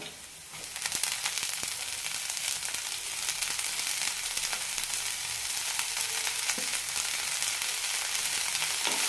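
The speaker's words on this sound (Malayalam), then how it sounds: "നന്നായി വയറ്റാം അഞ്ച് മിനിറ്റ് മതി എടുക്കാൻ പെട്ടെന്ന് തന്നെ വെന്ത് കിട്ടും" Moong bean microgreens sauté in a pan with a steady, close sizzle and faint crackles of frying, continuous throughout with no talking.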